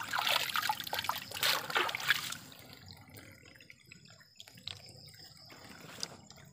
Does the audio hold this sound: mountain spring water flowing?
yes